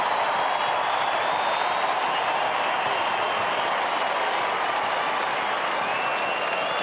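A large AFL crowd at a Fremantle versus Collingwood match roars and applauds after a goal, a dense, steady wash of clapping and cheering that holds loud and unbroken throughout.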